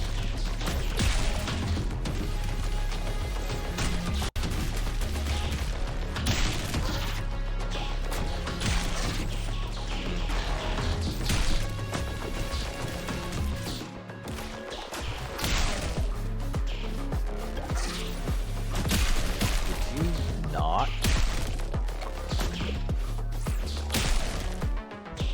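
Shotgun blasts in a video game, sharp crashing bangs repeating under dense, loud game music and effects throughout.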